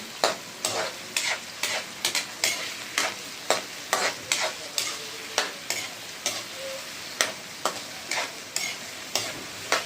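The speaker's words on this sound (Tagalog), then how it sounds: "Pag-brown natin ang ating hipon." Shrimp sizzling and browning in a hot pan while a utensil stirs it in a steady rhythm of scraping strokes, close and alone with no talking.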